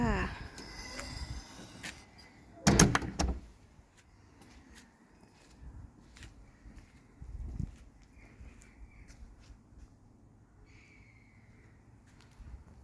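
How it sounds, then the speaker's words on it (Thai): A door to a garbage room in a Swedish apartment building swings shut with one sharp bang near the start, followed by quieter knocks and faint shuffling, and someone talks softly. "ปิดประตูค่ะ"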